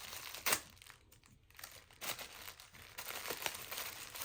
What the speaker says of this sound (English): Sorry for the crinkles, everybody.